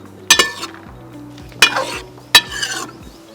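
Vegetables for millet biryani fry and sizzle in a pan, with three loud bursts of stirring and clinking utensils against the cookware over a steady frying hiss.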